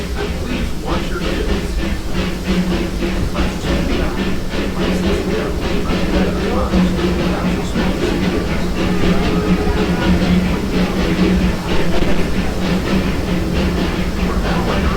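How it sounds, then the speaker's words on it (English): Steady rumble of the Disneyland Railroad train rolling along the tracks, with a rhythmic clickety-clack of wheels over rail joints and a faint hiss throughout. "Welcome aboard the Disneyland Railroad."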